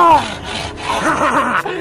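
A saw rasps back and forth through wood in quick strokes, loud and close, with no talking.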